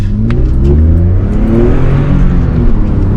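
A BMW E34 accelerates hard, its engine revving up loudly and climbing in pitch through the gears, heard close from inside the car.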